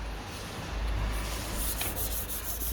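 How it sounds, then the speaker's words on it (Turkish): Dry 320-grit sandpaper rubs back and forth on a car headlight in a continuous rasping scrape, close and fairly loud, with no voices. "Şu an 320 kuru zımparayla zımpara yapıyor."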